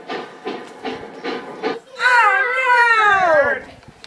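A puppet-show Dinosaur Train sets off: a few chugging puffs give way to a loud, rising whistle-like wail that bends and fades, heard without talk.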